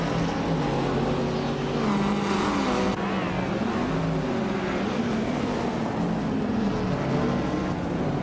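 Several race cars in a racing video game drone and rev continuously, their engine pitches weaving up and down over one another at steady loud volume, with no voices.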